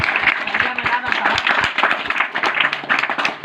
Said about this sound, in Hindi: 1 2 3 ताली बजा